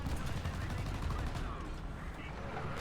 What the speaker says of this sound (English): I just saw some sort of machine gun fire going from left to right across my screen